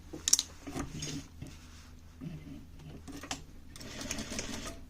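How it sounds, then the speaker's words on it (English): A sewing machine stitches a tapered dress sleeve in short bursts at close range, with quiet handling sounds between runs and no talk. "we little by little we're gonna start sewing on the front part"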